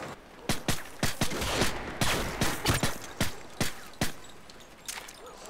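Gunshots in a video game ring out as a dozen or so sharp, loud cracks, some in quick pairs and others spaced apart, with no voices.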